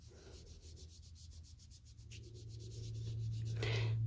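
A sponge rubs ink onto card stock in steady, rapid back-and-forth strokes, making a soft, close scratchy swishing that builds slightly toward the end.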